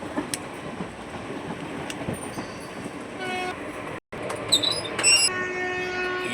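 Passenger train on the rail journey to Mahanandi rumbles steadily with wheel clatter, a brief gap in the noise, then several horn or whistle tones sounding out over the running noise, with no talk.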